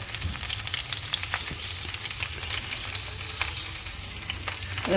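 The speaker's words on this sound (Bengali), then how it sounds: "মা আমগুলো দিয়ে ভালো করে নাড়াচাড়া দিয়ে ভালো করে নাড়াচাড়া দিয়ে মশলার সঙ্গে নাড়া দিয়ে নেবে" Mango pieces tossed with spices in a kadai for pickle: a steady, close sizzle of frying runs throughout, broken by repeated scraping and stirring strokes of a spoon against the pan.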